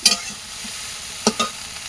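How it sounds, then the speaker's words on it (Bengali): A spatula stirs pond algae (shaola) frying in a pan with dried chilli, onion and garlic, giving a low steady sizzle with a couple of sharp scraping clicks partway through. "সাবলাটা দিয়ে একটু নাড়াচাড়া করে নিচ্ছে"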